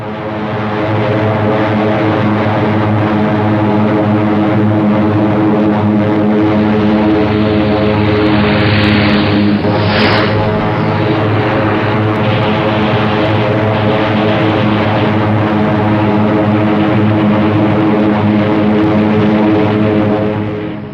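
Focke-Wulf 190 fighter planes drone loudly and steadily with a deep propeller-engine roar, holding level for the whole stretch with a brief swell near the middle.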